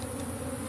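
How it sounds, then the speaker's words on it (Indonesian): Apis cerana honey bees swarming out of a hollow in a coconut tree, giving a steady, dense buzzing drone that holds evenly throughout at close range with no talk. "ini kondisi lebah yang ada di lubang pohon kelapa"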